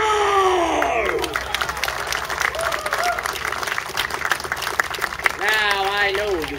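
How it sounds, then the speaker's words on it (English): A crowd at a historical soldiers' show in Williamsburg, Virginia, claps steadily and close for several seconds, with loud whoops and cheering voices rising at the start and again near the end. "let us applaud them all!"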